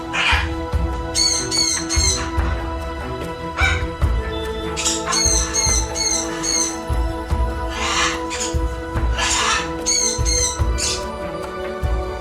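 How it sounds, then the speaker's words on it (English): A flock of macaws on Costa Rica's Pacific coast in the evening, shrieking in loud, repeated harsh bursts that come in clusters over several seconds against steady background noise. "a flock of macaws, shrieking and displaying their beautiful colors in the evening sun"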